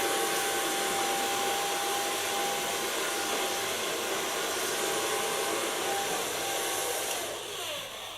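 Hair blow dryer running steadily while drying hair at a salon, a loud continuous whirring roar that holds for the whole stretch and eases slightly near the end, with no talk.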